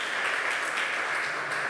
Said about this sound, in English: you're clapping to a great man